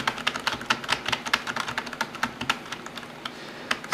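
Keys on a Razer Nostromo gaming keypad, W and D pressed rapidly: a steady stream of close, crisp plastic clicks and taps in quick, uneven succession, with no talk over them.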